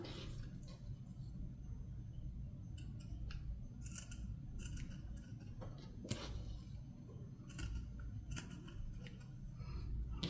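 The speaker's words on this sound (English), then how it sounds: "we'll trim that off a little" Scissors snip through paper for junk journal tags in a series of sharp, close cuts, some in quick pairs, over steady low room hum.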